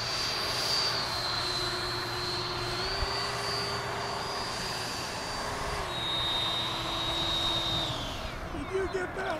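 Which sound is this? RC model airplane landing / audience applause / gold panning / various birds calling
RC model airplane landing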